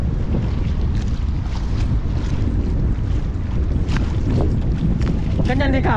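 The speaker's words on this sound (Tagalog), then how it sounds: "Kasi pagpasensyan niyo po yung hangin." Strong wind buffets a boat on open water, a loud continuous roar against the microphone with rushing water beneath and brief voices partly masked by the gusts.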